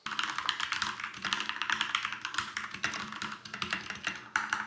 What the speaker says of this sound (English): I love the sound of mechanical keyboards, but my girlfriend hates it. She thinks it's way too loud.